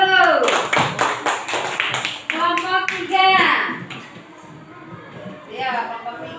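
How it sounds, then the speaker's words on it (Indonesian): Third-grade schoolchildren in a classroom give a round of rhythmic hand claps, several bursts of sharp clapping close by, with a teacher's voice and children's speech around it. "beri tepuk tangan dulu"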